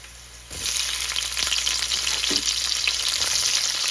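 Onions dropped into a pan of golden-browned garlic for chicken-feet adobo burst into a loud, steady sizzle after a brief quieter start, with occasional stirring scrapes and no talking.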